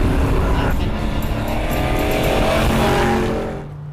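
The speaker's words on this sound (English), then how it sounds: "the car was actually surging" A muscle car engine surges and roars from fuel starvation while driving on a highway in the heat. The loud, continuous drone stays close, eases slightly near the end, and has no talk over it.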